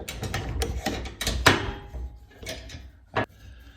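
Metal clamp being tightened onto a garage door wheel, a close series of ratcheting clicks and scraping mechanical clacks, with a few sharper knocks between short pauses.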